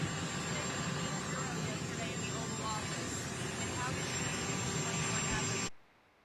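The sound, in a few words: helicopter flying overhead during an interview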